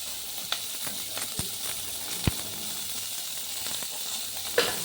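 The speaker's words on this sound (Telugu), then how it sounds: "4 పచ్చిమిర్చి, ఒక టమాటా తీసుకున్నాను. అవి కూడా వేసుకొని దాన్ని కూడా బాగా వేపుకోవాలి." Green chilies and a tomato fry in a pan with a steady close sizzle, broken by occasional pops and crackles, and no talking over it.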